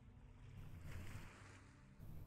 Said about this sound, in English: I'm not tired of hearing the ocean so close.